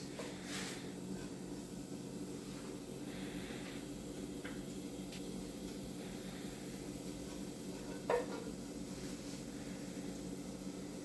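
Butter sizzling in a Saladmaster pan before pancakes go in: a soft, steady hiss that holds evenly throughout, with one small sharp crackle near the end.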